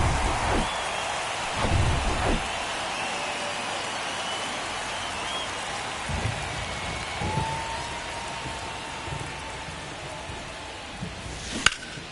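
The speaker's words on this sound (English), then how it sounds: "It feels like we might be headed towards a rain delay if the weather doesn't ease up, Chris." Rain and rolling thunder in the baseball video game MLB The Show 23, a steady hiss of rainfall with several low thunder rumbles and a sharp crack near the end, with no voices.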